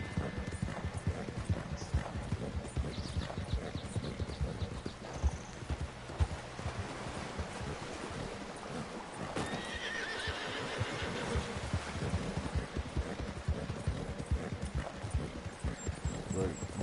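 Rhythmic hoof clip-clop and a horse's whinny from a PS4 video game, steady footfalls with a neigh partway through, under someone talking most of the way.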